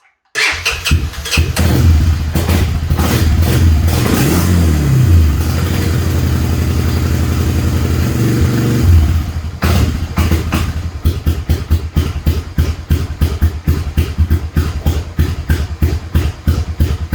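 A Honda 300 Fourtrax ATV with carburetor trouble cranks and fires up, then runs loud and close, first at a fast, high idle and later settling into a rough, uneven chug with distinct irregular pulses.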